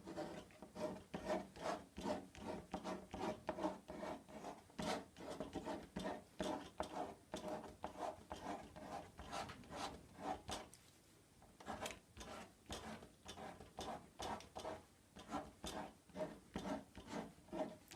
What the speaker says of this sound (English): here's an old credit card. And all I'm doing is just scraping